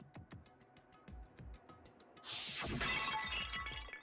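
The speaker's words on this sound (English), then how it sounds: "I grabbed the Monokuma bottle from the shelf and smashed it across her head" A Monokuma bottle shatters over a head as a Danganronpa game effect: a brief run of sharp ticking clicks gives way to a loud, bright glass smash with scattering shards ringing for over a second.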